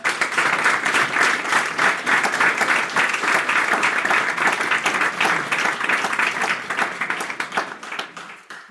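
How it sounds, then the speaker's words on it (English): Sustained audience applause at a FameLab Basel science-talk semi-final 2023, a dense steady wash of many hands clapping that continues loud throughout before tapering slightly at the very end, with no talking over it. "Big applause for Sophie."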